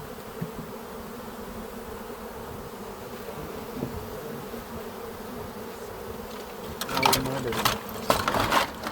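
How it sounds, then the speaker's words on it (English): Swarm of wild bees buzzing steadily around a hive box in a garden, a continuous close drone that swells louder with sharper bursts near the end. "So notice more of the bees are gathering on the box now"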